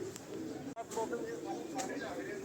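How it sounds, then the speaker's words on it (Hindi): Pigeons coo softly in a short rounded phrase, heard at moderate distance outdoors against steady background noise and a faint voice. "बिल्कुल क्लियर नज़र आ रहे हैं कबूतर ऊपर"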